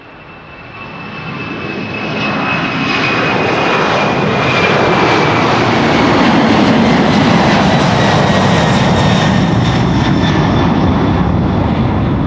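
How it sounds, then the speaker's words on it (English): KLM Cargo jet, flight 6161 bound for Miami, at Amsterdam Schiphol Airport, its engine roar swelling over the first few seconds and then holding loud and close, with a thin whine riding on top. "this is KLM Cargo going to Miami, Florida, flight 6161"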